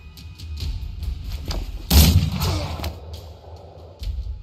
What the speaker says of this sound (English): Let me shoot you again.